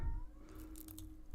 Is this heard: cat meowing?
yes